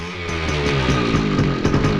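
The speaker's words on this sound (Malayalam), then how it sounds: "ബൈക്ക്." A motorcycle engine runs steadily close by, a loud low rumble with a throaty, sawing edge and small surges in revs, heard on its own with no voices.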